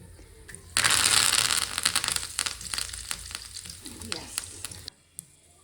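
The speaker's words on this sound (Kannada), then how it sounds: "ಎಣ್ಣೆ ಕಾಯಿಸ್ಕೊಂಡು ಕಡಲೆ ಬೀಜ ನನ್ನ ಮಗಳು ಹಾಕ್ಬಿಟ್ಲು ಮಿಸ್ ಆಗಿ" Peanuts drop into hot oil for a tempering and burst into a loud, close sizzle that gradually settles into crackling and scattered pops with stirring before cutting off abruptly.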